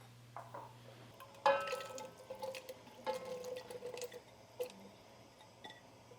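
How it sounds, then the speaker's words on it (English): Vegetable stock and chopped yellow squash are added to a pot of leeks, giving soft splashes, wet drips and small thuds close by at low volume, with a sharper pour at the start and scattered plops after. "we're going to add a quart of low sodium vegetable stock and 4 cups of"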